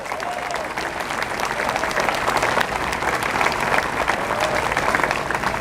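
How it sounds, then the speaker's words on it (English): An audience at a Houston Veterans Day ceremony gives a rousing round of applause, dense and sustained clapping that stays close and loud throughout. "Let's give them a rousing applause."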